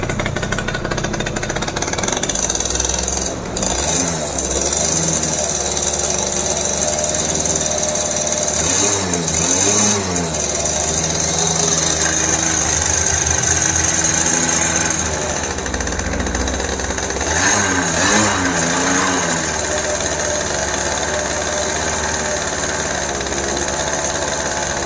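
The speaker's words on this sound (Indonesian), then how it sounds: "sudah nyala motornya. Kita coba tarik gas" A Force 1 ZR motorcycle engine with a newly fitted carburetor runs loud and close, idling with a rough two-stroke rattle, the throttle blipped several times so the pitch rises and falls.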